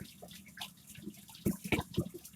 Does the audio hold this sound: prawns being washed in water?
yes